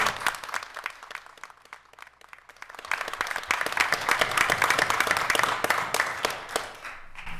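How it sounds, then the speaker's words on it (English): Applause at a city council meeting begins with a few scattered claps, then swells into fuller clapping from a modest crowd before thinning out again at the end. "that is definitely worth an applause for 26 million"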